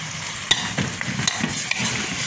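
Beef rib and fat sautéing in a pan, giving a steady soft sizzle close by with a few sharp stirring clicks and scrapes.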